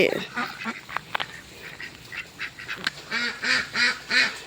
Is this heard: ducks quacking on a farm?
yes